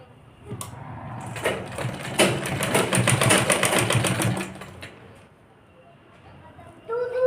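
An electric sewing machine stitches a girl's skirt in one continuous whirring run of a few seconds, then stops, with a voice speaking nearby.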